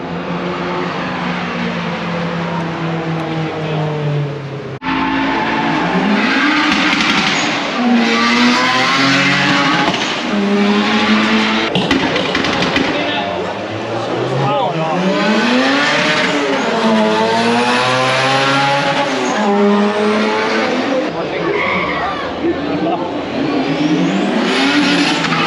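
Two Honda Civics pass at a car show, engines revving and rising in pitch as they go by, loud and close, with tire noise and a busy outdoor crowd beneath the engine sound.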